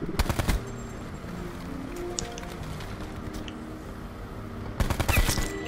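Loud bursts of automatic gunfire from the Black Ops 4 Blackout battle royale game, one rapid volley at the start and another near the end, with quieter game ambience between.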